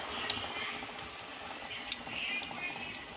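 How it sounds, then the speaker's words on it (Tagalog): Okra frying in hot oil: a steady, close sizzle with a couple of brief sharp pops and crackles, no voices over it. "So, fry na natin ang ganun."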